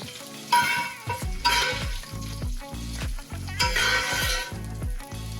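A ribeye steak browning in a pan as it is basted with butter and aromatics gives off a steady, close frying sizzle with stirring noises, and music plays underneath.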